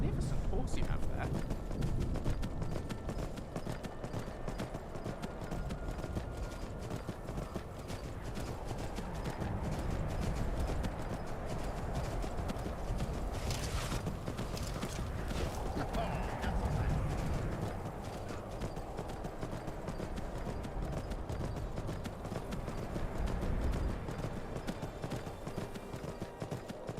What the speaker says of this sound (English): Magnificent horse you have there.